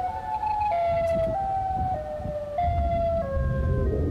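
Siren Head creature's wail from a short online clip: a loud, continuous stepped siren tone that drops in pitch in several steps, with a rumbling low background throughout.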